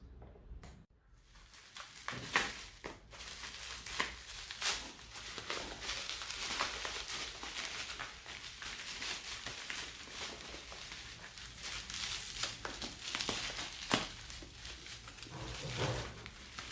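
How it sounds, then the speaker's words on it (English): Plastic and cardboard packaging of a Leap Motion Controller being unwrapped, a continuous run of crinkling, rustling and tearing noises with occasional sharper cracks, close and moderately loud. "Now let me unwrap this."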